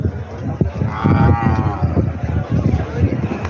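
A cow lets out a loud, drawn-out moo close by, amid chatter and crowd noise at the bustling Kamtha bullock market in Kalamnuri, Hingoli.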